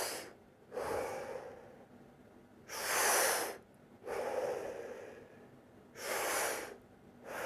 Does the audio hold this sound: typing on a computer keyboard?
no